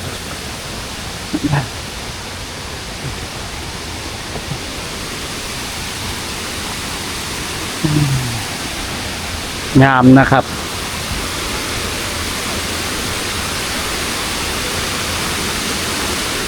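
Kuang Si waterfall near Luang Prabang, Laos, a steady broadband rush of falling water filling the whole clip, with someone speaking briefly over it a few times.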